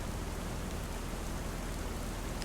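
Continuous rainfall in Farming Simulator 25, a dense, uniform hiss of raindrops at a constant level.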